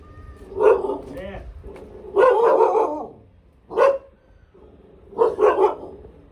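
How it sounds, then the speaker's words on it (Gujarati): Two dogs barking in short, loud bursts at close range, four separate volleys with brief pauses between, some yips mixed in, outdoors on a farm. "અને આ છે બે કૂતરા"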